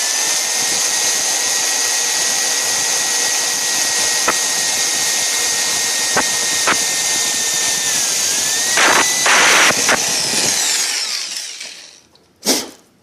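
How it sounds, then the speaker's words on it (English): A power drill bores into a carbon fiber car roof skin on an Evo 8/9, its motor whining at a steady high pitch with brief pitch shifts as pressure changes, then spinning down to quiet before a short final burst. "You want to apply pressure, but you want to have the drill in an angle so you don't smash that hard the roof."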